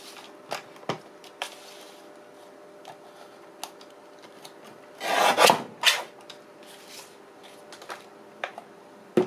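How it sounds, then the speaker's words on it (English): Paper being trimmed for a journal, quiet scattered taps and rubs with one louder rasping cut in the middle, close and otherwise calm with no talk. "that would be a good place to trim it"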